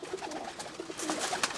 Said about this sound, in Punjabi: ਇਹ ਉਡਾਰ ਵਾਲੇ ਮਾਸ਼ਾਅੱਲਾ ਇਹਨਾਂ ਦੇ ਕਬੂਤਰ ਹਨ